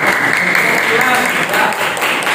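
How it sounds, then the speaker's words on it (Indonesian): Students in a classroom applaud after a presentation, a brief burst of many hands clapping with scattered voices mixed underneath. "terima kasih, tepuk tangan."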